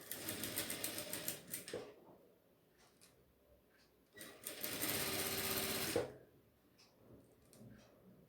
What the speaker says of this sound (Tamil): இந்த மாதிரி கொஞ்சம் கேப்பில் எலாஸ்டிக் நல்லா இழுத்து வச்சு ஸ்டிச் பண்ணிடலாம்.